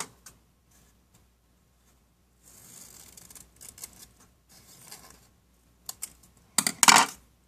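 Scissors cut paper while making a doll-size envelope: a few faint snips, then short crisp cutting bursts growing louder toward the end, with near silence between them.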